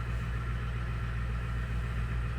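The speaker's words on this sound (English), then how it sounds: "Oops, that's my neighbor's truck." A gigantic diesel pickup truck engine idles some distance away, a steady low rumble with a constant throb, fairly loud and continuous with no talking.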